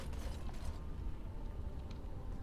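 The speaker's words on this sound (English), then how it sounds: "We can open this door, however." A creaking, mechanical door swings open in Dragon Age: Origins, a low grinding groan with faint clicks running continuously at moderate volume, no talk over it.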